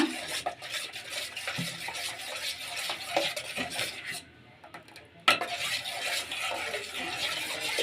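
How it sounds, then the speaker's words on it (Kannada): A spoon stirs ground fenugreek paste into curd in a bowl, making a continuous close scraping and swishing that pauses briefly before resuming, with no voices. "ರುಬ್ಕೊಂಡಿರೋದು ಮೊಸ್ರಿಗೆ ಹಾಕ್ಕೊಳ್ಳೋಣ ಈಗ ಚೆನ್ನಾಗಿ ಮಿಕ್ಸ್ ಮಾಡೋಣ"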